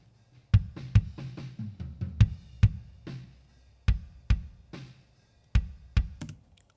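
Unprocessed worship-style kick drum before any EQ, a boomy, muddier bass drum struck in an uneven run of close hits with a ringing low-mid tone, played alone.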